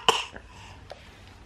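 A baby gives a short, sharp cough near at hand, followed by a couple of faint throat sounds against a quiet room.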